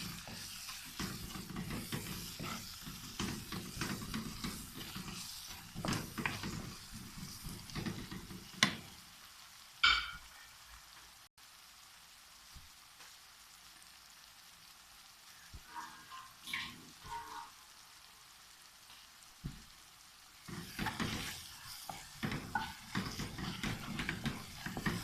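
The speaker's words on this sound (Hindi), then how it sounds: "तो 1-2 मिनट भून लेंगे इसको।" Chopped tomatoes and spices sizzle and fry in a pan while cooking chana dal, a close, steady crackling with occasional stirring scrapes and clatters, quieter in the middle stretch before growing busy again.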